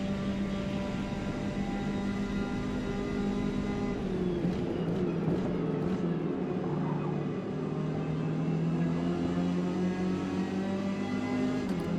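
Engines of Ginetta Junior race cars in Forza Motorsport, a steady, close and loud droning roar with sustained revs and small pitch dips through shifts, other cars' engines blending underneath.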